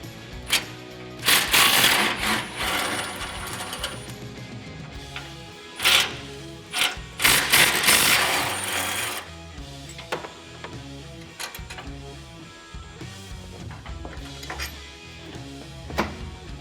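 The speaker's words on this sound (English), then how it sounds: "Now we're going to remove the tow hook on the other side as well." Tools removing a tow hook from a 2016-2018 Chevrolet Silverado 1500 HDX, with rapid ratcheting clicks and mechanical bursts, several loud impact-like spurts among lighter intermittent tapping.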